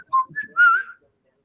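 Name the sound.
person imitating a deep whistle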